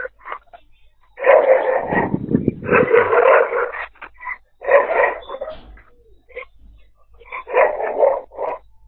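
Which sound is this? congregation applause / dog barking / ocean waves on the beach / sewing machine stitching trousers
dog barking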